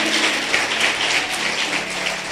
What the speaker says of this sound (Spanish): ¿Cuántos le pueden dar un fuerte aplauso a Dios de la gloria entonces?